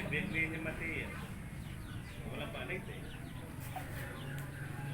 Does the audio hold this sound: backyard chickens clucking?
yes